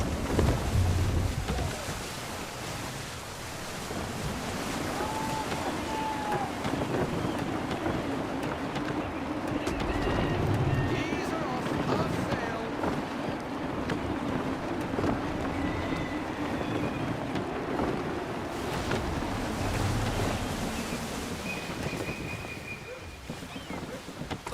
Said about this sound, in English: Full sail. Wind looks to be shifting. Stay alert, Connor. Gusty winds can be difficult to manage.